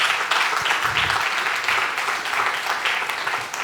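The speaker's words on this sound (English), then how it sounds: "how about a round of applause for Joth?" Audience applause after a business talk, a continuous, even patter of many hands clapping at moderate volume, with no speech over it.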